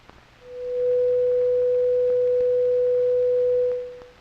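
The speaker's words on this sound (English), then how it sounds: "This simple 500 cycle tone can be represented mathematically by a sine wave." A steady, pure 500-cycle sine-wave tone fades in, holds for about three seconds at a constant loud level, then fades out, with faint clicks and a low background hum around it.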